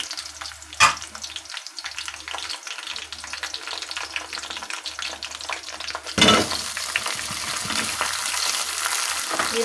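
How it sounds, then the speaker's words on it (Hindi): Chicken dropped into a pan of browned onions, a burst of crackling at first, then a steady loud sizzle that jumps to a stronger hiss partway through as the frying picks up, with no talk. "अब मैं इसमें चिकन डाल दूँगी।"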